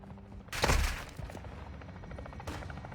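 Gunfire in the video game Warzone 2: a sharp burst of shots with a heavy thump, then scattered smaller pops and a second crack trailing off, fairly close with no talk.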